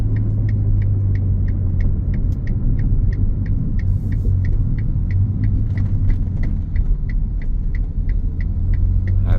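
A 2023 Ferrari Portofino with next to no miles idles steadily and loudly nearby, a deep continuous rumble with a faint regular ticking pulse over it and no voices.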